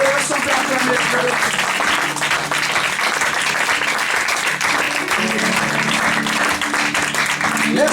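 A church congregation applauds and cheers loudly and steadily, a dense continuous wash of clapping and raised voices, with speech mixed in underneath.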